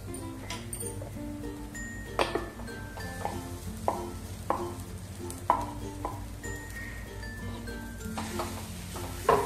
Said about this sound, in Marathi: बारीक गॅसवरतीच हे सगळं परतवून घ्यायचंय आपल्याला.